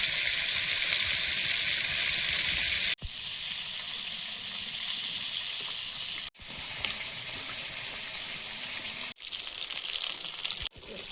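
Fish fries in a pan, giving a loud, continuous close hiss and crackle that breaks off abruptly several times and resumes, with no talking.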